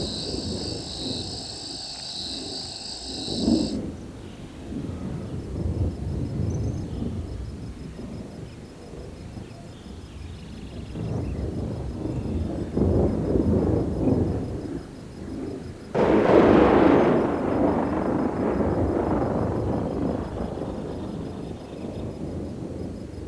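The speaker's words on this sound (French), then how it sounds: "Un orage a déchiré la nuit." A night thunderstorm over the Amazon rainforest rolls through, with deep, distant thunder rumbling repeatedly and swelling into a louder crack later on. Crickets chirp and rain patters faintly in the background.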